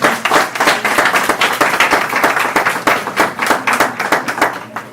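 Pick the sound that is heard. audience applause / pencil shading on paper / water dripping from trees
audience applause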